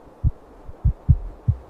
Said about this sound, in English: The frantic heartbeat finally returns to a slow, steady rhythm.